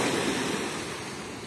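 Sea waves wash onto a beach in a continuous broad roar of surf, steady and fairly close, with no voices.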